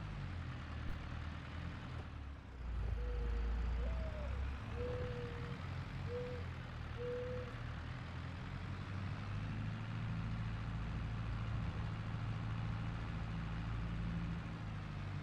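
In a farming video game, a new tractor's engine idles with a low, steady rumble, heard at moderate distance, with a few short tonal beeps early on.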